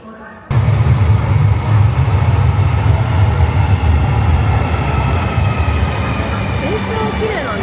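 A Naples metro train rumbles loudly underground, starting abruptly and then holding a steady, dense roar of wheels and motors with faint squeal tones on top.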